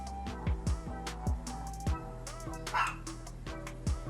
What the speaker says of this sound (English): Excuse my dog, she is